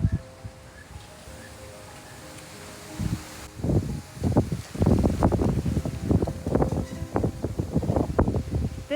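Wind gusts through a tropical garden in Panama, buffeting the microphone in uneven rumbling bursts that grow stronger and more frequent after a quieter opening, alongside rustling foliage.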